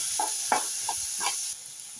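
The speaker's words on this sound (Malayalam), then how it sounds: "തക്കാളിയും ഇഞ്ചിയും വെളുത്തുള്ളിയും ഒക്കെ നന്നായിട്ടൊന്ന് വഴറ്റി കൊടുക്കുക." Tomato, ginger and garlic sauté in a pan for a sardine roe recipe. A steady, bright sizzle hisses throughout, broken by a few soft scrapes and stirring knocks, with no talking.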